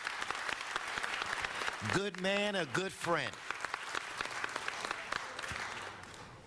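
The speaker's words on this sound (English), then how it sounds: "Let's give Alex a round of applause." A city council chamber audience applauds a former council president, sustained clapping throughout while someone speaks briefly over it in the middle.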